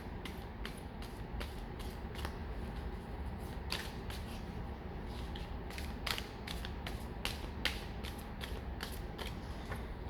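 Tarot cards being shuffled to clear the deck, a steady run of crisp, close flicks and snaps as the cards riffle and slap together, repeating rhythmically without any talking.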